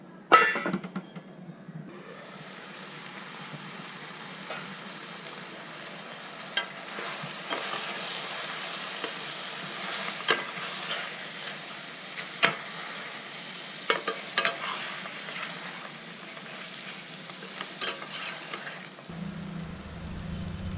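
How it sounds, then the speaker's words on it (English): Prawns seasoned with salt, turmeric and chili powder sizzle in a pan for biryani, a steady close crackle broken by scattered clinks and scrapes of stirring, ending with a low rumble. "Let's cook this prawns for about 10 minutes"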